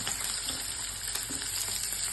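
Bay leaf, chillies and green garlic hit hot oil for a Gujarati green chickpea ghuto tempering, crackling in a close, continuous sizzle that holds steady for the whole stretch.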